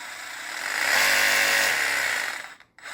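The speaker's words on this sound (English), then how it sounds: "So this is the reciprocating saw, all right? Very powerful." A Snap-on cordless reciprocating saw runs up to speed, holds a steady buzzing whine for about two seconds, then winds down to a stop, close and alone with no talk.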